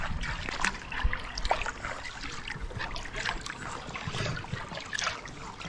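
Paddling a canoe or kayak on a river: soft, continuous water trickle and splashing from the paddle strokes, close and gentle, with no talking.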